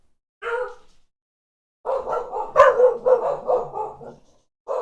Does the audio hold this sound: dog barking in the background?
yes